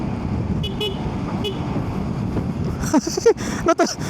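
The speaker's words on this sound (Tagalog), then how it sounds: "Natutuwa ako sa busina eh, no?" A Zontes 400G motorcycle horn honks in several short bursts near the end, over wind and steady engine rumble.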